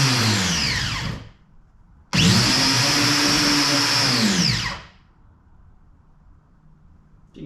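A power tool spins a plastic fitting against an RV water tank to spin-weld it, producing two loud, whining bursts of about one and three seconds separated by quiet, the second pitch sagging as the plastic grabs.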